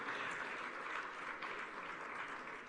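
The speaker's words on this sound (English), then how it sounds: "Let's give her a round of applause as she comes to introduce the speakers and this particular session." An audience at a Women in Leadership forum session gives a round of applause: a soft, continuous spread of many hands clapping at a distance, steady throughout and fading slightly at the end.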